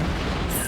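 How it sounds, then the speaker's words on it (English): A torpedo strike explodes against a battleship in a naval combat video game, a short, deep, rumbling boom that fills the brief moment. "One torp hit, two torp hits"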